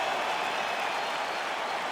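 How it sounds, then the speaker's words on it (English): Arena crowd at a UFC fight between Dricus Du Plessis and Sean Strickland roars in approval after the referee lets the fighter continue, a steady dense wash of cheering and applause with no clear breaks. "So a nice pop from the crowd as that decision is made"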